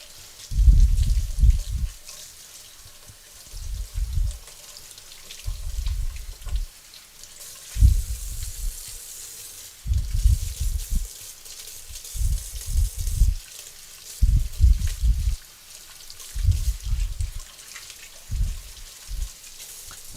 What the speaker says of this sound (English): Okay, here we go. Let's wash these.